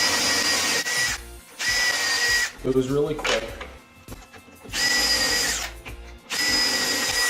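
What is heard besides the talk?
drill with 3/16 inch bit drilling angled pilot holes in drawer box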